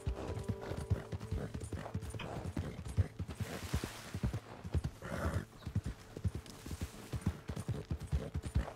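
Horse hooves clip-clopping steadily in Red Dead Redemption 2 while riding near Valentine in freezing weather, a continuous close rhythmic trot with a few faint whinnies and creaks of tack mixed in.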